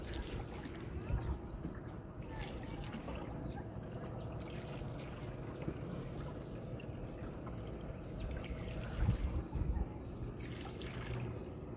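Water sloshes and laps steadily against a small wooden boat without outriggers rocking on floodwater, with low rumbling and occasional wind buffeting the microphone, and no talking.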